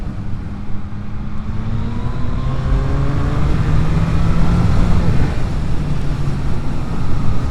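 A 2024 Yamaha MT-09 SP motorcycle rides along a potholed road on a warm day, its engine note rising and falling through gear changes under steady wind noise, loud and close throughout.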